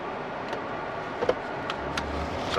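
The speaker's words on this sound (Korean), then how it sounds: "등속 조인트 오목이야 소리 뚝뚝뚝뚝 소리 안 나고 타이어 소리만 나죠" Low, steady tire and road noise from a Genesis car rolling along, quiet in the cabin, with a few faint ticks and a brief low rumble near the end and no knocking.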